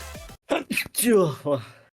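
A single sharp sneeze bursts out close to a headset microphone during an online game session, preceded by a brief breathy intake and followed by a short vocal trailing sound.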